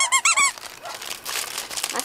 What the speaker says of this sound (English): And the ice cube squeaks.